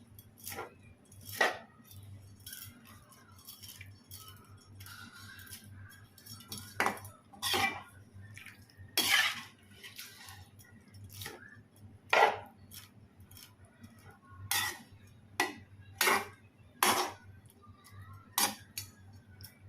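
A spoon clinks and scrapes against a pot while semiya (vermicelli) biryani is stirred, with sharp metallic taps at irregular intervals over a quiet, low hum.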